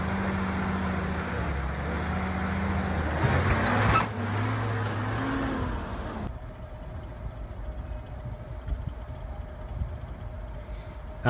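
Willys flatfender Jeep with a truck 4-speed transmission crawling slowly in granny low gear on a rough off-road climb, a steady low engine drone that drops to a quieter idle-like rumble partway through.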